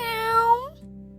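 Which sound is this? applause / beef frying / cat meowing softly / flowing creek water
cat meowing softly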